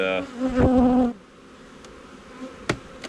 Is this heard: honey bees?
yes